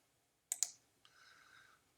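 Two sharp computer mouse clicks in quick succession, close and crisp, followed by a faint brief tonal whine, with no talking.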